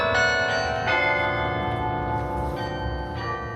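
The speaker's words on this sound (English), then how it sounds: "MSU Shadows, the university hymn, played out through the bell tower." The university hymn rings out from Beaumont Tower's carillon bells on the MSU campus at evening, sustained overlapping tones sounding loud and steady with struck notes every second or so.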